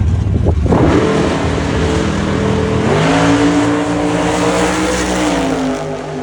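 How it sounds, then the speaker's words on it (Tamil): Legacy cars roar down a drag strip in the USA, a loud continuous engine drone with rising revs and a sweeping pitch as a car passes close, with no talking. "இப்போ பாருங்க, ஒரு லெகசி கார் ரேஸ் நடக்குது."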